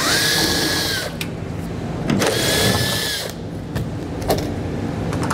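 A power drill with a 15 mm Torx bit backs two Torx screws out of a 2015 vehicle's taillight, giving two whirring bursts of about a second each separated by short pauses, close and fairly loud.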